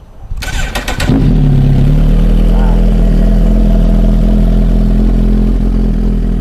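An old Suzuki motorcycle engine cranks briefly on its electric starter, catches on the first try, and settles into a loud, steady idle close by.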